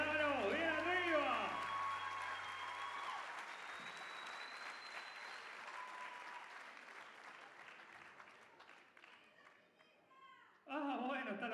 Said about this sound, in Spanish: Fuerte los aplausos para Ludovica Alejandro.